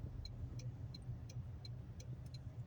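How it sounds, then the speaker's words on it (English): A car on the move, heard as a low steady rumble of engine and road noise with faint repeated high ticking above it, fairly quiet throughout. "I'm driving"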